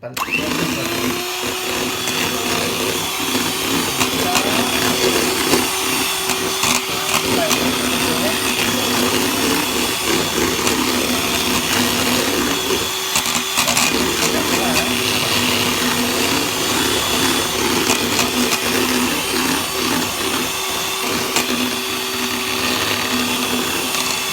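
Electric mixer running at high speed through banana pancake batter for a strawberry cheese apam pisang, a loud continuous motor whir with a steady hum throughout while a person talks over it.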